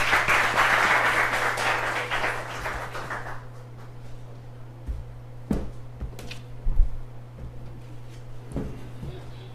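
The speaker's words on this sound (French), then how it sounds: "Sous vos applaudissements, s'il vous plaît." Audience applause at a summer school event, a dense burst of clapping for about three seconds that fades into scattered claps, knocks and room noise over a steady hum.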